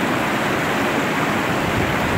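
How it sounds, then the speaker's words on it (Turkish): The Hemşin river stream flows in a steady, full rush of water, broad and continuous like a close cascade, with no voices over it. "Biraz da derenin sesini dinleyelim."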